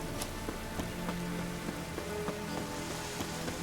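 Steady rainfall in The Witcher 3 video game, an even wash of rain with scattered drops and faint game tones beneath, continuous and fairly loud.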